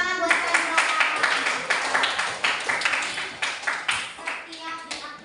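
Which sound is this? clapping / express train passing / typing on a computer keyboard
clapping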